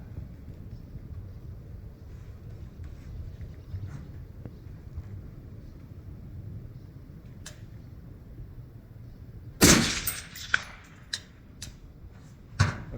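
A rifle is fired outdoors at a distant target, and one sudden loud crack cuts through a long stretch of faint wind noise, followed by a few quieter clicks and knocks.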